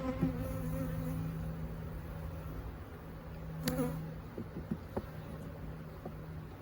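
Honey bees swarm and buzz around an opened hive during a fall inspection, a steady droning hum with a few sharper buzzes passing close near the end, no talking.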